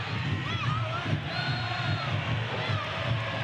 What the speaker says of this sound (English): And that has brought alive this crowd here at Keyworth Stadium.